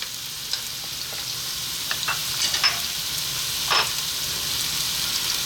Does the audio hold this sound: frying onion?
yes